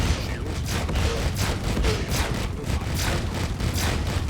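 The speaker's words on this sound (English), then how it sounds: "Firing both my fixed gun in the front, the other one's kind of gimbalized. This thing uses all ballistic weapons by default loadout." Fixed ballistic ship guns firing in Star Citizen, a dense rapid stream of loud repeated shots with booming low rumble, continuous throughout and no voices.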